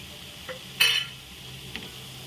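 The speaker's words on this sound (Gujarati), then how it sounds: "આ રીતના આપણે બધું મિક્સ કરી લેવાનું છે।" Leftover cooked rice being stirred and mixed with fresh coriander for Gujarati vagharela bhat, a short scraping stir with one louder sizzling burst in the middle, close and fairly quiet with no talking.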